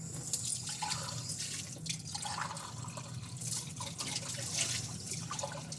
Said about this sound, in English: Now I'm going to take my solution, I'm going to pour that out and rinse that.